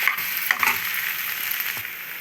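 A medium tomato is stirred into a frying curry, with a soft continuous sizzle and a few light clicks of a spoon against the pan, short and close, with no talk.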